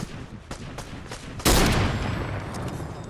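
Sniper gunfire in the Fortnite video game: a few faint distant shots, then one loud sharp blast with a long decaying echo.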